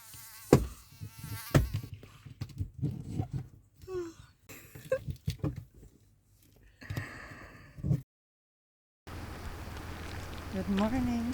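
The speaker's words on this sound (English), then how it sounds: "Perfect time to kill mosquitoes." Mosquitoes whine inside an old 1990s campervan at night, thin buzzing mixed with rustling, sighs and breathy vocal sounds, broken by a short silence before a steady hiss returns.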